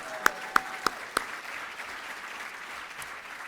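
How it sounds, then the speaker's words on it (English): Audience applause at an inductee luncheon, a few sharp, evenly spaced claps standing out at the start over a steady wash of clapping that carries on to the end. "Now we can applaud."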